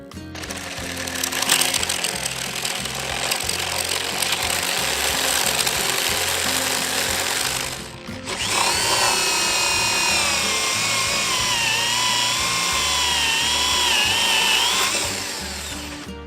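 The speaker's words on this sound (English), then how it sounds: "So I'll be attacking it with the 1 3/4 bit, and then the 1 3/8 bit to make it a bit deeper until I get all the way through." Power drill with a large 1 3/4 inch spade-type bit boring through wooden posts outdoors while building dip bars; a loud, continuous whining grind with a brief dip midway, then rising and wavering pitch as the bit bites deeper.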